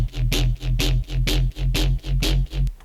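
A wobbly synth bass lead from an electronic dance track drop plays alone, its pitch bending upward in a steady pulsing rhythm of roughly six loud repeated swells, with a sustained sub bass underneath.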